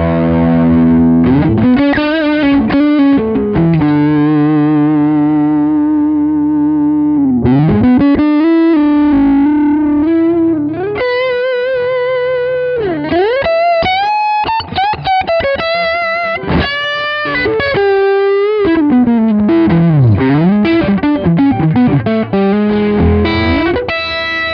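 Overdriven electric guitar played through an Allen Eden 1987 FR amplifier, with gritty distorted chords and sliding single-note lines ringing loud and close for the whole stretch, no talking over it.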